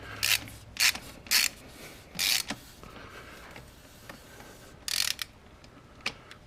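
A ratchet wrench cranks loose the plastic oil filter cap on a 2014 Jeep Wrangler, giving several short bursts of clicking, close and crisp, separated by pauses and ending in a few lighter clicks.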